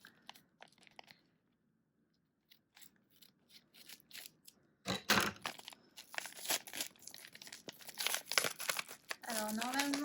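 Vinted parcels holding Pokémon cards being opened, with crinkling packaging, tearing and scissor snips that grow busier and louder partway through, alongside a voice speaking.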